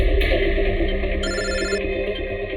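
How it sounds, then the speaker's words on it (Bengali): A telephone rings with repeated electronic bell tones, loud and close, sounding alone without any talk. "যে কোনো সময় ওদের ফোন আসতে পারে।"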